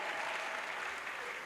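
Applause from a crowd at a Christian crusade meeting in Douala, a dense, steady wash of many hands clapping at close range, with no voice on top.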